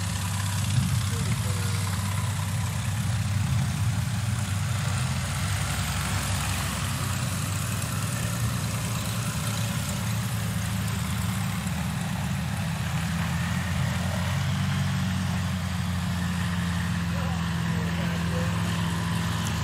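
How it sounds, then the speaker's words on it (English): Light aircraft engines idle and rumble steadily as a line of planes taxis at a STOL competition practice, a continuous low drone close by with no break. "Look at that beautiful line of aircraft there taxiing down."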